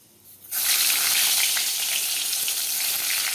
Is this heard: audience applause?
no